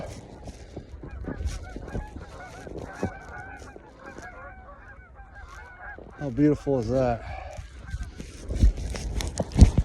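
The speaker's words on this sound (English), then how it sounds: "A little pack of geese coming out to say hi too." A small flock of geese honking outdoors on a snowy winter day, a scattering of calls that grows into a close, loud burst of honks, with a person's voice heard now and then.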